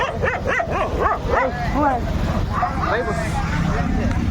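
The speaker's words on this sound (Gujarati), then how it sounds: "કૂતરા છે ને ભસ્યા કરે ધ્યાન ના આપવાનું" Dogs bark in a quick run of sharp, close barks, then trail off into softer yips and whines.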